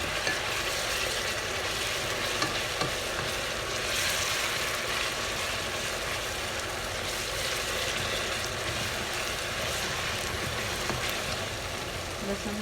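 Ginger-garlic paste frying and being stirred in a pan for a chicken jalfrezi, a steady broadband sizzle with scraping stir sounds running throughout at moderate level.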